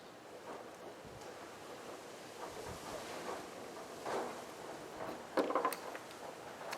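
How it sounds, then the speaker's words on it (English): Steady wind roars outdoors with broadband gusts, and a few brief clattering knocks of loose shutters rattling, especially near the end. "it's windy, you know, everything's rattling"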